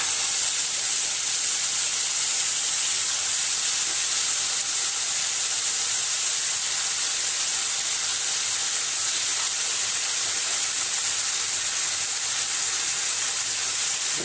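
Aloo gosht curry heats in a pot on a stove, giving off a loud, steady hiss of steam that runs unbroken throughout, with no voices.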